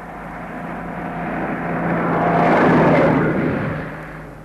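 A lorry passes along a street beside a pavement, its engine rumble swelling as it approaches, peaking near the middle, then fading away again, with no voices over it.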